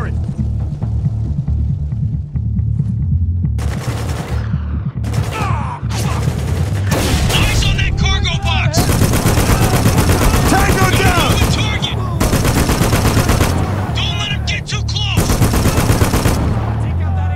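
Turret machine gun in the shooter game Spec Ops: The Line fires long, loud, sustained bursts of rapid gunfire in the foreground, broken by short pauses, with game voices shouting over the shots.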